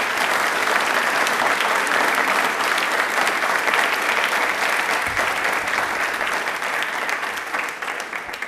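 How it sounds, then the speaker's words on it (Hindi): Loud, sustained audience applause at a televised railway quiz programme: many hands clapping in a dense, even wash that eases off slightly toward the end. "एक बार वापस से भारतीय रेल के लिए दिल से एक बार जोरदार तालियां प्लीज"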